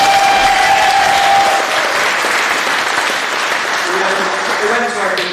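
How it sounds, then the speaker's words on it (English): Guests at Laura and Bryn Toner's wedding give a loud, full round of applause that holds steady, then thins out as a voice begins to come through near the end. "a big round of applause to Kate, please"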